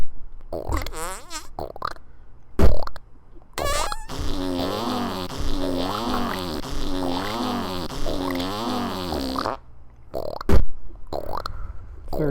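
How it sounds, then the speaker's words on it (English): Fart sound effects are played in a rhythmic sequence like a drum beat, with short sharp hits at first, then a longer run of repeated buzzy pulses before more isolated hits. No voices are heard. "Nice little snare hit. Yeah. Snare fart."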